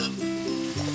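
Spice masala sizzles in hot oil in a pan while being sautéed for a katla fish dish: a brief, continuous close-up frying hiss with no voices.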